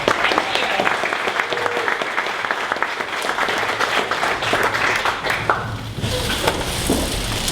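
An audience at a 1 Million Cups Dallas startup event breaks into sustained, dense applause welcoming a presenter, a steady wash of clapping that continues throughout with faint crowd murmur.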